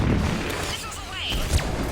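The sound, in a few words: missile launch and explosions in the video game Mass Effect 3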